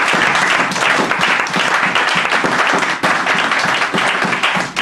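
A church congregation applauds and cheers in unison, a dense, steady wash of clapping that holds loud and unbroken for about five seconds, with no clear speech over it.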